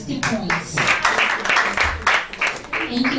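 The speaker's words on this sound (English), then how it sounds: "Please give me a round of applause again" A seated audience claps together at a summit event, a dense, steady patter of many hands lasting a few seconds, fairly close, with voices mixed in.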